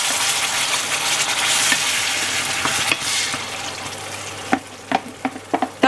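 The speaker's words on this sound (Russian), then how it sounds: "Добавляем наши томаты." Tomatoes hit a pan of browned, frying meat and set off a bright, steady sizzle close up, with a few sharp spatters and stirring clacks toward the end.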